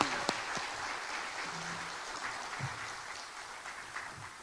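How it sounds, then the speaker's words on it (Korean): An audience at an indoor public briefing on regional administrative and education integration applauds to welcome guests, with a steady burst of clapping that slowly fades. "자, 박수로 환영해 주십시오"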